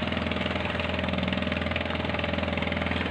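A pump boat engine at Ubay, Bohol runs steadily close by, a loud continuous drone with a low rhythmic chug and no voices.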